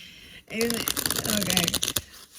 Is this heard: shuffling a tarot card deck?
yes